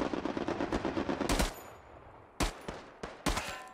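Thompson submachine gun fire in the WWII shooter Hell Let Loose: a rapid automatic burst followed by a pause, then three sharp single or short shots, close and loud.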